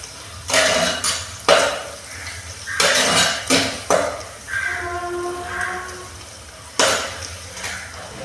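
Curry leaves and onions sautéed in a pan for a prawn curry, with loud clattering spoon-on-pan strikes and scraping stirs in uneven bursts over a soft sizzle, no talk.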